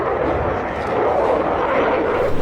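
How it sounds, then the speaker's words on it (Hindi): A Rafale fighter jet flies by with a steady, fairly loud broadband roar that holds evenly for a couple of seconds, with no voices over it. "Rafale fighter jet"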